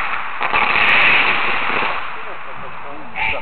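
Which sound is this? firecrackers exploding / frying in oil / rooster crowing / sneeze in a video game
firecrackers exploding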